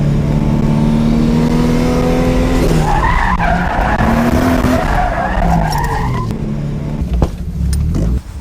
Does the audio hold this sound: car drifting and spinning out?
yes